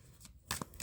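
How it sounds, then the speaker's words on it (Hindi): Tarot cards are shuffled close up in a brief, quiet riffle of papery flutters and taps. "Last shuffle."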